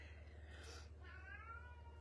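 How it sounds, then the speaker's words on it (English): A house cat gives a soft meow or two, faint and close, over a low steady hum, with no voices heard. "And that's the cat."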